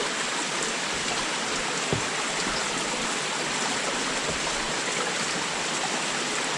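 Cold mountain stream water on the way to a village in the Himalayan hills, flowing in a steady, close, hissing rush with a few faint splashes, continuous and alone throughout.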